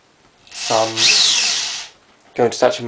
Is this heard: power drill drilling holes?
yes